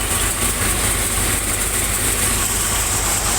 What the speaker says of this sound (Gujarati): ટ્રેક્ટર આપણું કમ્પ્લીટ હાલી રહ્યું છે